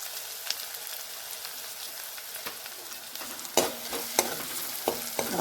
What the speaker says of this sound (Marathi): कापलेला कांदा आपला तो टाकून घ्यायचा आपला कांदा व्यवस्थित परतून घेतला